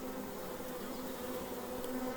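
A swarm of honeybees fanning and buzzing at the entrance of a hive, a steady, dense hum that holds at an even level throughout, with no voices.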